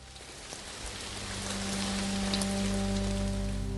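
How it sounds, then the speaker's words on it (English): Steady rain pours down on a shelter of bark in a wild, forested setting, a dense, even hiss that grows slightly louder, with a low, constant hum underneath. "The rain isn't letting up."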